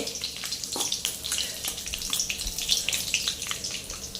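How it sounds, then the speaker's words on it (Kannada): Tomatoes frying in hot oil with cinnamon, cloves, cardamom, cumin and a bay leaf for a paneer capsicum curry made without onion or garlic, a close, continuous crackling sizzle with scraping stirs and no voices. "2 ಟೊಮೆಟೊ, ಫ್ರೈ ಮಾಡಬೇಕು ಇದನ್ನು."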